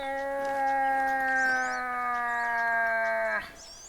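A moose call lure in The Hunter: Call of the Wild sounds one long, loud, steady drawn-out tone that drops and cuts off abruptly, with faint birdsong behind it.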